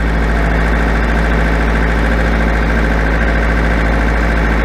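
A tractor engine idles steadily before setting off, a continuous low mechanical drone with a firm hum underneath, loud and close with no talking.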